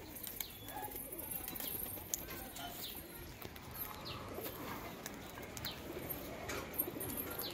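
Pigeons coo softly outdoors in a faint, open setting, with occasional wing flaps and light clattering as the birds are released and take flight; distant and fairly quiet throughout.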